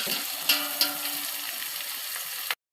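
Green chillies and onions fry in a pan for a vegetable biryani, with a steady, close sizzle broken by a couple of faint stirring clicks before it cuts off abruptly.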